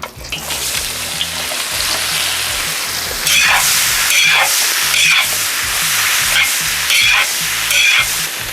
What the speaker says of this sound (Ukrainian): Цибуля смажиться на середньому вогні